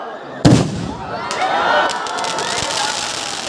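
A single loud aerial shell firework boom bursts up close at a Ram Navami festival, followed by crackling and a lingering hiss as the shell scatters, with crowd noise underneath.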